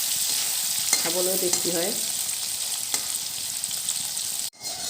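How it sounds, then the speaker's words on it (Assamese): Paneer cubes frying in hot oil in a pan on an Assamese home stove give a steady, close hiss of sizzling throughout, while someone talks briefly over it. "অলপ বেছিকৈ ভাজিলে পনীৰখিনি নাভাঙে, ধুনীয়া হয়"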